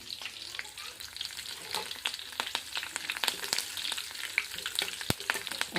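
Dried curry leaves crackle and sizzle in hot oil in a village kitchen, a steady close frying hiss dense with sharp pops and spits throughout, with no voices.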